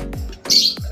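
Pet birds chirping during a bath, a few quick close chirps and short squawks in under a second, with splashy handling noise between calls.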